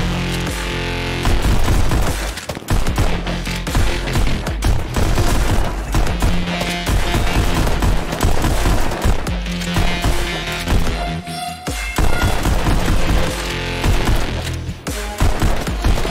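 Rapid volleys of gunfire in the Pistol Whip rhythm shooter game, with sharp repeated pistol shots and booming impacts layered over a driving music track, loud and nearly continuous.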